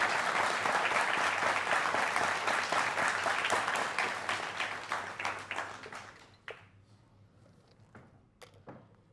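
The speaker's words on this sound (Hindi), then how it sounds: "एक बार फिर जोरदार तालियां" An audience at a televised stage interview event with Hindu religious leader Dhirendra Krishna Shastri applauds loudly, a dense burst of clapping that holds for about five seconds then thins to scattered claps and fades out.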